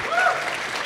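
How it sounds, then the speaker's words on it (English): A brief burst of applause from a conference audience, dense clapping heard for under a second with a faint voice underneath. "Come on, that deserves a bigger round of applause."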